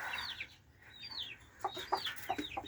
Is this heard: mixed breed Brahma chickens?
yes